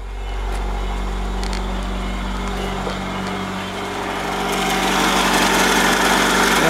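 A car motor idling steadily close by, a constant low hum that swells slightly louder toward the end, with no talking over it.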